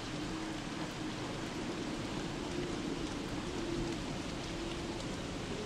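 Steady rain in the video game Don't Starve, a continuous even hiss of falling rain at a constant level throughout, with no voices.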